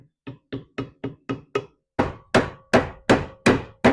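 A series of sharp metallic hammer strikes on a trailer brake hub, five lighter taps followed by six heavier ringing blows in a steady rhythm, close and loud.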